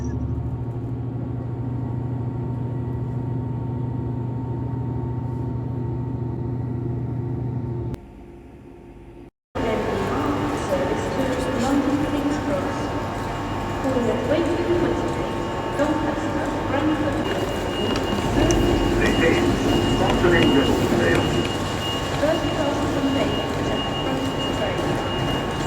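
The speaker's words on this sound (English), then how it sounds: "a train now on a line on time" A train runs along the line in Ribblesdale with a sustained rumbling roll of wheels on track. A brief drop and gap occur partway through, and a calm voice speaks over much of it.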